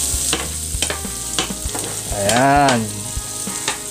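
Tuna being sautéed in a frying pan, a close, constant sizzle with repeated scraping stirs and a brief warbling tone in the middle, one short spoken word over it.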